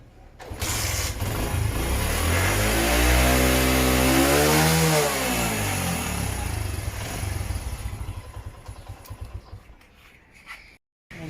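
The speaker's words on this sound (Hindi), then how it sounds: "अभी इसका जो है ना वो साउंड टेस्ट करते हैं दोनों का। पहले होंडा का कर लेते हैं।" A Honda petrol motorcycle engine starts and runs, revving up to a loud rising roar, holding, then dropping back before cutting off, heard close and alone.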